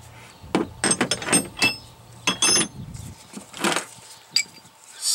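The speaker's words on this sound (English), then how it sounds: "I have to use a half inch drive ratchet" A half-inch drive ratchet with an extension turns a socket on an engine's oil pressure sensor, giving several close bursts of clicking and metallic knocks separated by short pauses, with no talking.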